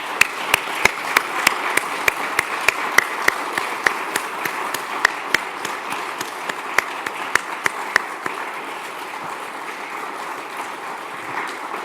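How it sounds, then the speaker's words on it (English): Applause at an academic professorship installation ceremony, scattered individual claps ringing out over a soft crowd bed, thinning toward the end. "Please join me in another round of applause."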